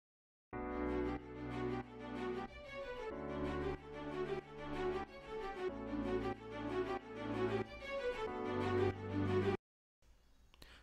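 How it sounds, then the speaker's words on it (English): Staccato string stabs cut in short, punchy repeated hits over sustained string chords in a pop track, playing loud and rhythmic for several seconds before stopping abruptly, with no talk. "I added staccato string stabs in there."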